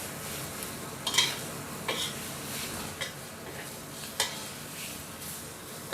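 Pork stir-frying with kaffir lime leaves in a pan, a soft continuous sizzle broken by a few sharp scrapes and clinks of a utensil against the pan, close by with no voices.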